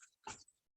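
A dog whimpers once, short and faint, beside a kitchen where chicken is cooking, with the sound fading quickly into quiet.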